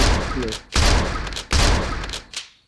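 Dense bursts of gunfire from a video game come in three loud rapid volleys separated by brief pauses, with a short final shot.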